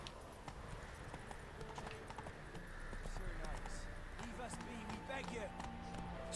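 Rapid hoofbeats of a galloping horse in The Witcher 3: Blood and Wine clatter over a busy game background, with a voice speaking over them.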